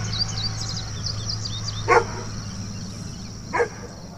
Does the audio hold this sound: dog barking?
yes